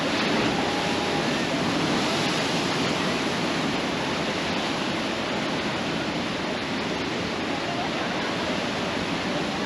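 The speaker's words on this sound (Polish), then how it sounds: "to jest największa fala, od której stoimy, a idzie następna" A continuous roar of surf fills the whole stretch, loud and dense like a big wave breaking and rushing against rocks on Nusa Penida, with wind buffeting the microphone.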